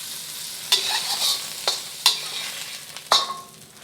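Shrimp frying in a pan for fried rice, with a steady hiss of sizzling broken by three sharp clinks and scrapes of a utensil stirring against the pan.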